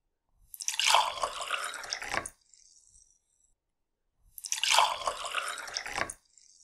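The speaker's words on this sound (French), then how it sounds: "Je vais remplir les deux verres, l'un avec de l'eau chaude, l'autre avec de l'eau froide." Hot water and cold water are poured into two glasses, each a splashy two-second stream separated by a quiet pause, close and fairly soft.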